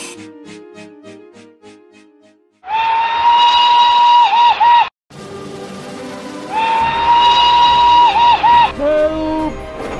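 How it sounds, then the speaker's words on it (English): Steam engine whistles on a railway, two long loud whistle blasts with a short gap between them, preceded by softer chuffing and train sounds, with narration alongside. "One day, Thomas heard an engine whistling."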